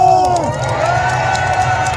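A crowd of citizens at a political rally in Daegu cheers and claps loudly. The roar of many voices stays dense and continuous, and a voice rises above it near the start.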